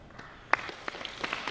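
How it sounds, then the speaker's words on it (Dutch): An audience greets a prize winner at a Dutch award ceremony with scattered hand claps, a handful of distinct claps, one sharper and louder than the rest, over a quiet room. "En die komt ook onder een luid applaus."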